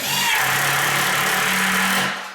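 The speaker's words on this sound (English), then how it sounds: "Go ahead, use the impact gun." An impact gun drives screws into an RTA pantry cabinet, a loud, steady motor whine that holds for about two seconds before cutting off abruptly.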